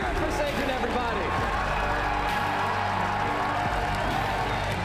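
A crowd at a Pokémon video game championship claps and cheers in a large hall, a sustained loud roar of applause and whoops under an announcer's speech.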